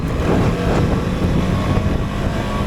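A loud, steady CFMOTO 250SR motorcycle engine drones beneath heavy wind buffeting the microphone while riding, a constant rushing roar with no speech.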